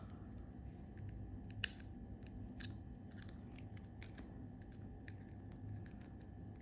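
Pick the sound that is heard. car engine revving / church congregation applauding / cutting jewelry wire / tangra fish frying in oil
cutting jewelry wire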